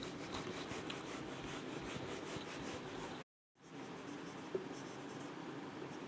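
A pen scratching across paper while chemical resonance structures are drawn, steady close scribbling strokes with a brief pause midway before the writing resumes.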